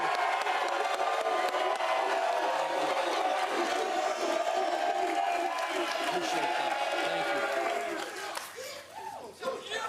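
A studio audience at a sports debate show cheers and claps in a busy, sustained roar mixed with voices, then thins out and quiets near the end.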